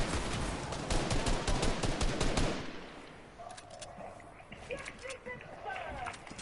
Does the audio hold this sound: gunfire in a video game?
yes